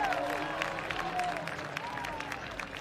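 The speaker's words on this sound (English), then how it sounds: "gets a nice hand from the crowd here on the front stretch" Applause and cheering rise from a grandstand crowd along the front stretch of an enduro demolition race, a steady wash of clapping with a commentator talking over it.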